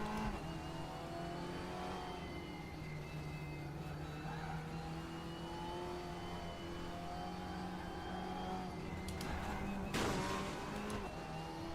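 A Porsche race car engine in the RaceRoom racing game drones steadily at moderate revs with slight pitch swells, holding close and constant, with a brief sharper noise burst near the end.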